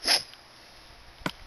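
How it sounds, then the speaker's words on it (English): A single sneeze bursts out near and sharp at the start, then a short faint sniff-like puff follows a second later, with no talk over it, during a gaming session. "sneezing a lot, as you can tell."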